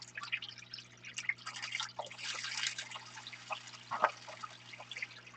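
Water dumped out of a gold pan in a shed, with faint irregular drips and small splashes trickling over a low steady hum, one brief louder splash near the end.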